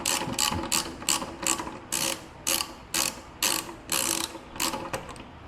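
Ratchet clicking in quick bursts while backing out old T15 Torx screws on a 1999 Jeep Wrangler TJ, a close, steady series of about ten sharp ratcheting runs with brief pauses between.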